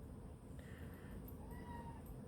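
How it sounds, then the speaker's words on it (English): A house cat meows softly in a room, a couple of faint, thin cries over a quiet background, distant and subdued, with no talk. "I don't see a cat, but I hear a cat."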